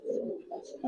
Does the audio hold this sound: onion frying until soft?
no